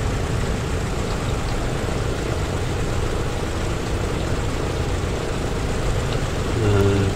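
Douglas DC-6 piston aircraft engines run in a continuous, even broadband drone that holds steady throughout, with a slight swell near the end.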